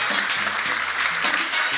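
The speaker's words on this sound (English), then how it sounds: "So please give a warm round of applause for Vesa." A conference audience gives a short burst of dense applause for a speaker, loud and close, with a voice speaking faintly under it.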